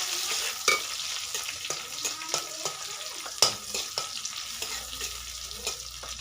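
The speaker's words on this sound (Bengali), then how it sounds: "ভেজে নিচ্ছি।" Chopped onion fries in a pan with spices, dried red chillies and bay leaf, under a steady close sizzle broken by irregular spatula clicks and scrapes, one sharper knock standing out.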